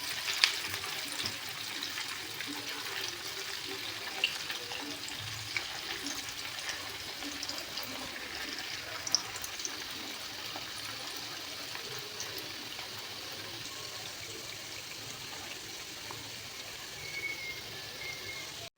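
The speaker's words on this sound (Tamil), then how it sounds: "ஊற வச்ச சிக்கனை ஆயிலில் சேர்த்து டீப் ஃப்ரை பண்ணிக்கலாம்" Marinated chicken 65 pieces deep frying in oil: a dense, continuous crackling hiss that holds steady and close throughout, with occasional sharper pops rising above the bubbling.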